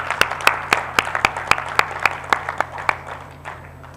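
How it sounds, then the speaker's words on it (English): An audience at a University of Greenwich graduation ceremony for PIBT Sri Lanka graduates claps in crisp, fairly regular strikes that sound sparse rather than a dense roar, then fade away near the end. "give another huge round of applause for our graduates"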